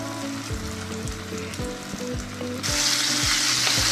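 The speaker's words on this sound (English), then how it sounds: "here's the second batch of the wings going in the frying pan" Chicken wings for Korean fried chicken fry in a pan with a steady, close sizzle, cut by repeated scraping stir strokes, and the hiss grows louder toward the end.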